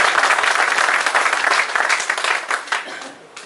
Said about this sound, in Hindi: आप जब एक बार ताली जोर से बजाएंगे